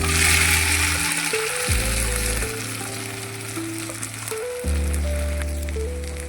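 Potatoes frying in hot oil with panch phoron for a soybean and potato vegetable dish, a loud, close, continuous sizzle with a crackling hiss throughout and a steady tonal hum beneath it.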